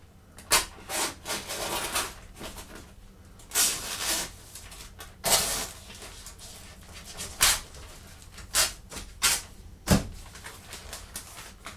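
Scissors or a blade cutting a fabric flap off a small sun shelter, heard as a series of short, close scraping and snipping bursts with brief pauses between them.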